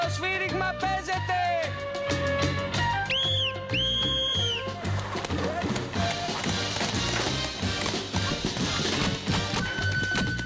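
A whistle signals the start of a paintball game in Thessaloniki, giving a couple of sharp, high blasts near the middle that cut through dense, loud music and commotion.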